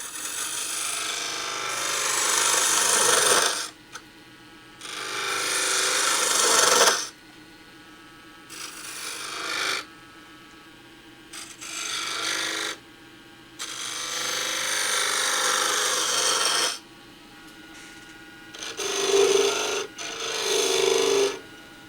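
A wooden gavel spindle being turned on a lathe, its damaged waste surface brought down with a cutting tool: repeated rasping, scraping cuts in bursts of a few seconds each, separated by brief pauses, close and fairly loud.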